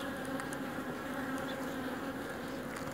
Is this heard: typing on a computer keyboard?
no